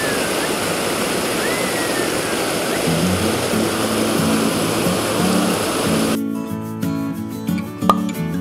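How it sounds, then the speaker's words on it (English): A cold mountain river on the Hampta Pass trek in India rushes in a steady broadband roar during the monsoon, with faint voices of trekkers crossing it; the water noise drops away abruptly near the end, leaving quieter tonal sounds. "we'll make a human chain and we'll be crossing the river"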